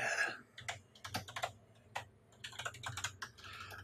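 Quick bursts of computer keyboard typing, close and clear, with irregular clusters of clacking keys and brief pauses.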